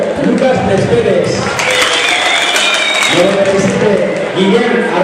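Crowd applause for a youth sports team at a Sparta Cup final, sustained clapping from a large audience, loud and steady across the whole span with an announcer's voice carrying over it.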